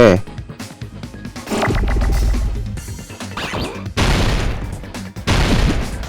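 Loud crashing booms and bursts of rapid gunfire from the video game Danganronpa 2: Goodbye Despair, several separate blasts in quick succession, close and heavy.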